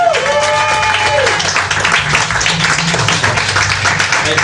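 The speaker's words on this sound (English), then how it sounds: "Give them a round of applause." An audience at a Doctor Who comedy night applauds, steady dense clapping from a crowd filling the room throughout, with voices faintly mixed in.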